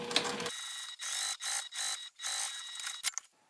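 A sewing machine top stitching fabric, running in a string of short rattling bursts with brief pauses between them, close and fairly loud with no talk.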